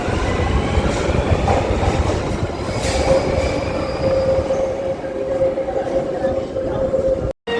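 A Barcelona metro train in a station gives a loud, steady rumble with a long metallic wheel squeal running underneath, ending in an abrupt cut.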